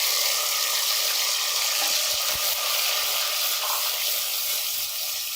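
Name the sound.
garlic frying in a pan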